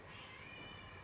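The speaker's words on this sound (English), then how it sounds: "you might hear some mewing in the background because I have cats" A cat mews faintly in the background indoors, a soft, brief high-pitched cry over low room noise.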